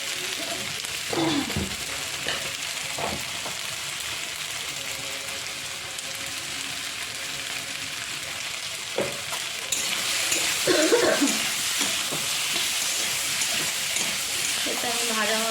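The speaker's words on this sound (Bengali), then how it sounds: "আলু পটল ভাজা ভাজা হচ্ছে" Potatoes and pointed gourd fry in a pan with a steady sizzle, broken by occasional scraping and stirring clatters.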